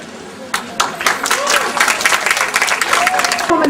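An audience at a school annual day show bursts into clapping for the children's performance, dense applause building and holding loud and steady, with a voice talking over it.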